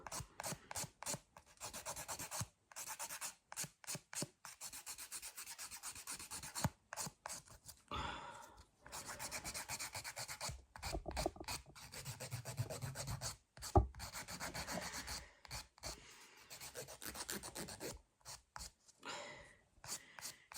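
A nail file is drawn by hand across a fingernail in short, quiet rasping strokes, repeated in quick rhythmic bursts with brief pauses between them.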